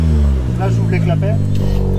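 A Seat Ateca's engine idles with a steady low drone while its exhaust valves are opened, the exhaust note carrying on under a voice talking over it.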